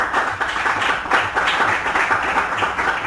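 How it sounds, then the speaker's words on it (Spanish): A church congregation claps together in a dense, steady burst of applause that fills the room at close range, with no voices over it. "Vamos a darle un fuerte aplauso a nuestro Dios."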